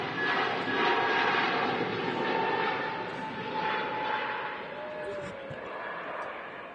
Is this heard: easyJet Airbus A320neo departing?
yes